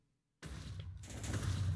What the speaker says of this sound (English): there's TNT's explosions all around us